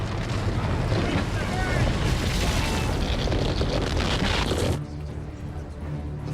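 An earthquake fault shifting in a sci-fi disaster film: a dense, roaring rumble with wind-like noise fills the first five seconds, then drops abruptly to a lower, steadier hum.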